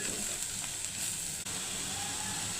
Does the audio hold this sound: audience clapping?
no